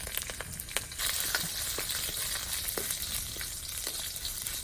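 Crushed garlic, mustard seeds, urad dal, curry leaves and dried red chillies crackling in hot oil, a continuous fine sizzle with scattered pops, moderately quiet and close.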